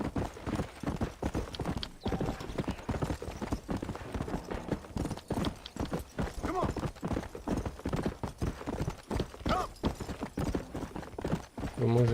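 Horse hooves clip-clop steadily and loudly in the Red Dead Redemption video game, a continuous rhythmic trot with occasional whinnies, under intermittent talk.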